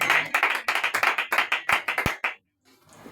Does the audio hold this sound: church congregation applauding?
yes